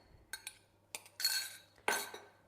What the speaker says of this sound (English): I'm still using my spoon because I want to combine the liquid with the dry